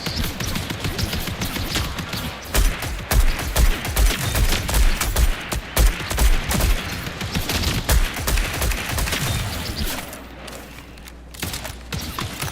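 Rapid gunfire bursts from the shooter video game Marathon rattle in dense, loud volleys almost continuously, with a few heavier thuds and a brief quieter lull near the end.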